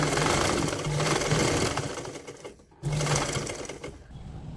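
A sewing machine runs steadily, stitching over elastic on a woolen pajama for a two-year-old, with a brief pause in the middle before the close, loud motor whir resumes.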